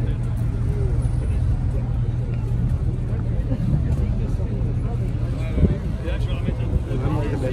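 Cars idling and creeping in a traffic jam at Place Vauban, a continuous low engine rumble with nearby motors humming, someone talking over it throughout.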